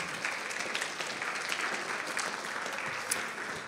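Year 12 students clap for themselves at their final school assembly, a dense, steady patter of many hands that holds evenly throughout at moderate distance.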